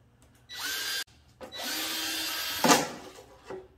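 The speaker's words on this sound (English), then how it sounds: "drill a small hole at each end of the crack." Power drill boring a small hole into a cracked HDPE gas tank, two close whirring bursts of the motor with a brief stop between them and a sharper bite near the end, no speech.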